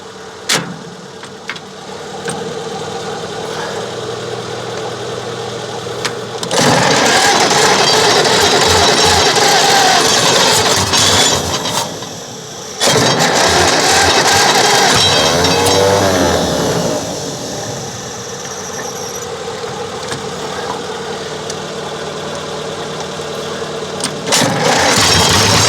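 An old Caterpillar D8 bulldozer engine, out of service for over twenty years, runs loud and rough, surging and dropping as the throttle acts up, with brief dips between bursts of revving.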